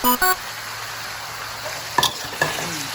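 Straw mushrooms and glass noodles stirred in a pan, a steady close sizzle with a few sharp scrapes and taps of the utensil against the pan.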